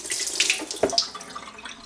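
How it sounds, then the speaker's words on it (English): A kitchen tap runs as a humidifier base is rinsed with fresh water, with close splashing and swishing spatters and a few distinct drips and clinks, no talking. "So now I just go to the kitchen sink, add about a cup of fresh water into the base."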